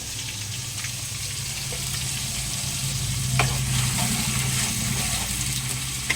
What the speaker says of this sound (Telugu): ఇదిగోండి కరివేపాకు రొబ్బల పడంగానే వేస్తాను. ఇదిగోండి పచ్చిమిరపకాయలు